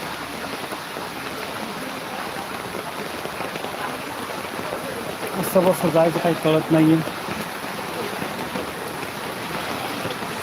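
Heavy rain pours steadily in Sanpada, Navi Mumbai, a dense hiss of drops on wet surfaces, with a person speaking over it and a brief louder patch midway.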